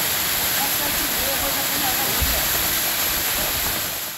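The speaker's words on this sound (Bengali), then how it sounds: "এই ঝর্ণাটি সহস্রধারার মতো প্রবল নয়, তবে রহস্যময় আর শান্ত।" Water of the Suptadhara waterfall at Sitakunda falls steadily, a broad, even rush close by that holds its level throughout before easing slightly at the end.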